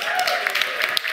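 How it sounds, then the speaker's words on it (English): A short burst of audience applause at an esports finale, dense clapping from a crowd, loud and continuous. "A round of applause for Graphis,"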